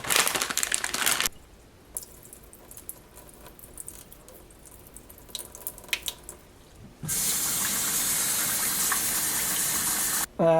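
Rice being rinsed for biko, with running water from a tap filling and splashing in a bowl. Loud bursts of flow come at the start and end, separated by quieter stretches of handling and swishing. No one speaks.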